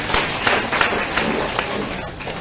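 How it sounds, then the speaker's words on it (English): Audience at a Green Drinks KL gathering gives a round of applause for Ireland, loose uneven clapping with a few sharper claps at the start, mixed with crowd murmur and tapering slightly. "Give Ireland a round of applause."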